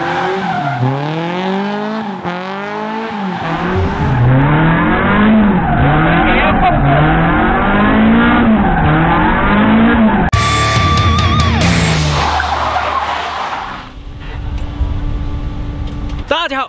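A car drifts in tight circles, engine revving in a rising and falling cycle with long tire squeals, loud and close, followed by an abrupt cut to a harsher engine roar, with talk underneath.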